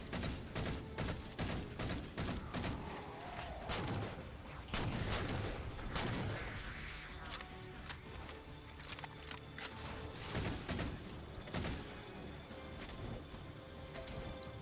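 Rapid, repeated DMR rifle fire in the Halo 4 campaign mission Composer, aimed from range at an elite. Sharp, loud cracks sound in irregular bursts over continuous game ambience and effects, with no talking.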